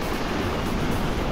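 Strong south wind at the seaside at Jogashima during shore fishing, a dense, continuous rushing noise of wind and surf, steady and loud with no voices.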